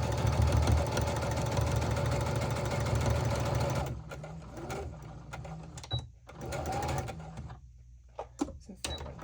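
A sewing machine stitching a patchwork pencil pouch runs in a steady, close whir for about four seconds, then stops, leaving a few scattered clicks and handling noises.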